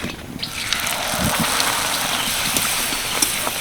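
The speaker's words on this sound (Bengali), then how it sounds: "দেখ তেলে দেওয়ার সঙ্গে সঙ্গে যেন বলের মতো ফুলে উঠছে" Hing kachori puffing up as it fries in hot oil, a steady dense sizzle and crackle that holds at an even, fairly loud level throughout with no talking.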